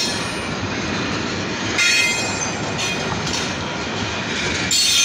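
A freight train rolls past with a blue Greenbrier rail car, a continuous roar of wheels on track with squealing and brief clanks, close and loud with no talk.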